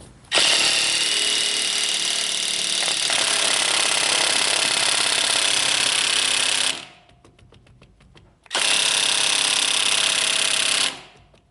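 A Harbor Freight Earthquake XT half-inch drive impact wrench hammers on a wheel's lug nuts in two loud, close bursts, a long rattling run, a short pause, then another burst.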